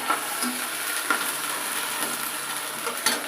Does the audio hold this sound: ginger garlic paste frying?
yes